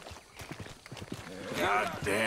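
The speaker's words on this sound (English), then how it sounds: "There she went, my old horse." A horse's hooves clop away in Red Dead Redemption 2, a run of soft, quick hoofbeats fading under a louder voice that rises toward the end.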